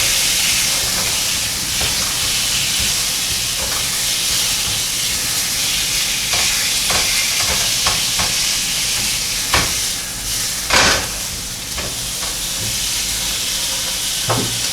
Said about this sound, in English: So I'm gonna stir fry this for about 10 minutes